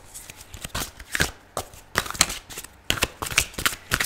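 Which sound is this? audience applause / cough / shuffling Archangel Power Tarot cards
shuffling Archangel Power Tarot cards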